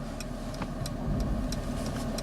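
A 2018 Mercedes-Benz S-Class with Active Parking Assist maneuvers out of a parking space on its own, giving a low, steady engine rumble with a slight swell partway through and faint light ticks over the top.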